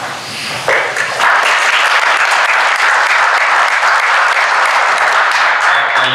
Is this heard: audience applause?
yes